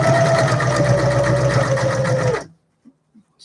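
A sewing machine runs steadily while backstitching on a lace fabric journal, a loud, continuous whirring hum that cuts off abruptly, followed by a few faint clicks.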